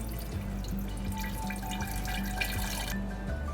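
Coffee trickles and pours steadily through a strainer for a few seconds, a soft continuous watery flow with faint drips, close by and with no voices.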